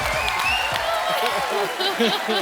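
A studio audience claps in applause on a Hindi television show, a dense patter of hands rising midway and continuing under a voice.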